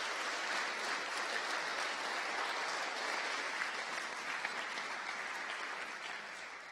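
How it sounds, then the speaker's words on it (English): An audience at an evening Christian talk on witnessing gives the speaker a sustained round of applause, a steady, distant wash of clapping that stays even throughout with no voices over it. "Give him another round of applause"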